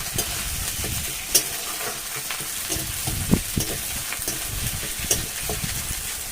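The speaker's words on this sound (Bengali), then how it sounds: "এই তেলের সঙ্গে ভালোভাবে আমি কষে নেবো।" Chopped ginger sizzles steadily in hot oil while a spoon stirs it, with occasional sharp scrapes and knocks against the pan over the constant frying hiss.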